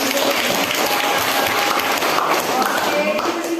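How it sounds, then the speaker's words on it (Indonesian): Classroom applause from students, a dense steady patter of many hands clapping at even loudness throughout, with some voices mixed in. "Tepuk tangan dulu."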